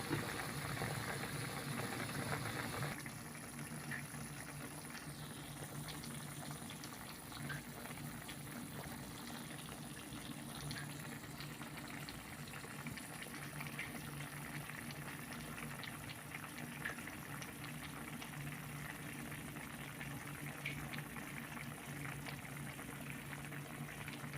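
A pot of squid adobo simmers in a little added water, giving a steady low bubbling and hiss that runs unbroken and fairly quiet throughout, with no one talking.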